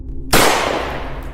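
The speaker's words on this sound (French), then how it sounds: "Un coup de feu a retenti juste à côté de mes pieds, me forçant à m'arrêter." A single gunshot sound effect in an animated horror story cracks suddenly after near silence, loud and close, then trails off in a long ringing decay.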